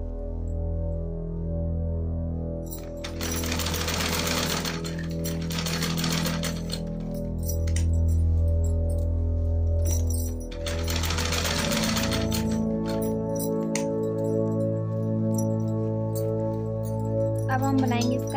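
A sewing machine stitches fabric in steady mechanical bursts, a close rapid needle rattle over a constant motor hum, pausing between runs while a person talks at times.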